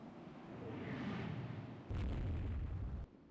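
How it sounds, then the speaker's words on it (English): Naval battle in the game Rule the Waves 2, a battlecruiser's heavy gunfire striking ships: a low rumbling boom builds, then a louder, sharper burst of impact hits for about a second before cutting off into quieter rumble. "Battlecruiser is shooting at our force."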